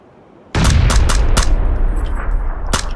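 Gunfire in the battle-royale shooter PUBG: a sudden loud burst of several sharp shots in quick succession, then a sustained rumbling roar with a few more cracks, ending on one final crisp shot.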